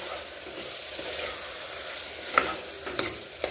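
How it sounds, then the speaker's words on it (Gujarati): Ground turmeric and coriander-cumin powder sautéing and being stirred in a pan for a dhaba-style paneer curry, a steady soft sizzle with a few scraping clicks of the spoon near the end, close by and with no talking. "અડધી મિનિટ માટે આપણે મસાલાને તેની અંદર સાતળવા દઈશું"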